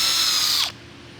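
A high power drill whines briefly, then spins down and stops abruptly as its drill bit snaps off, leaving quiet room tone.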